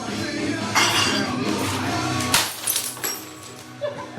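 Glass smashes and shatters with a sharp crash, followed by scattered tinkling fragments and a few smaller clinks, loud and close with no talk over it.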